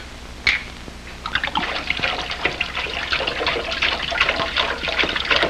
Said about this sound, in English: Pour it in the sink.